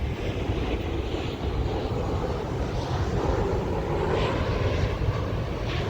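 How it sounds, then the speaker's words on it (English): An airplane passes overhead close to an airport in a park setting, a steady broadband engine roar sustained at even loudness throughout, with no talking. "There's another plane."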